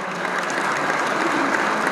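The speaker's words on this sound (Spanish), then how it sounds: "Así que pido un aplauso para los pequeños y medianos empresarios" Brief burst of steady audience applause at a Confederación Argentina de la Mediana Empresa event, many hands clapping together loudly for a couple of seconds.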